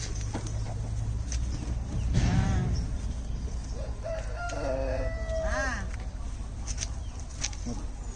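A rooster crows twice over steady background noise, the calls clear but somewhat distant, with faint farmyard sounds around them.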